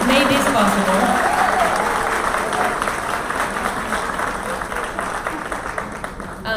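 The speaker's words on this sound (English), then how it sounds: "So please give a round of applause to them." An audience at a conference event applauds warmly, a full, close wash of clapping that starts strong and gradually thins out over a few seconds, with a voice briefly heard near the beginning.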